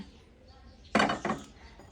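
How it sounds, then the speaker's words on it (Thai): A single metallic clunk as a wok is set down on a gas stove, followed by a softer second knock, in an otherwise quiet room. "เราก็เปิดแก๊สไฟอ่อนนะคะ ไฟไม่ต้องแรงมาก ประมาณนี้ เราก็ตั้งกระทะ"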